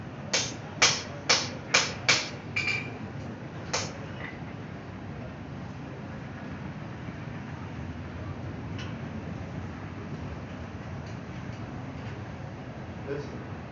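A blacksmith's hammer drives a slit chisel through a hot steel bar to punch a hole. About half a dozen sharp, ringing blows land in quick succession near the start, with one more a moment later, then quiet room noise.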